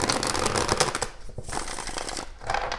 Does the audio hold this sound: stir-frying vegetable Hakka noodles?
no